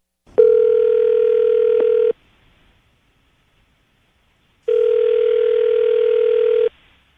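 A telephone line tone sounds while a call is placed from a morning radio show studio. Two long, steady, loud tones of about two seconds each are separated by a silent pause, with no talking.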